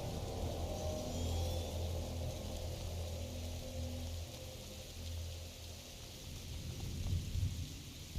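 A thunderstorm in the video game A Plague Tale: Innocence: steady rain hiss with low, rolling thunder rumbling underneath throughout, continuous and fairly full.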